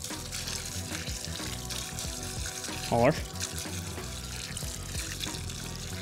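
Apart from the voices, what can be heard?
water sprinkled over newly planted potatoes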